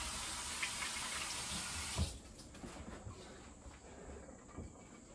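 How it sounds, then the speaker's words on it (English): Water running steadily from a kitchen tap while hands are washed, a continuous close hiss that softens partway through, with small splashes and clinks, no talking. "let me wash my hands real quick"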